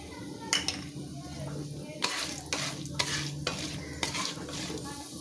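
Chana dal, coriander seeds and dried chillies roast in hot oil in a pan, with a soft continuous sizzle and several sharp scraping stirs of a spoon against the pan, close by.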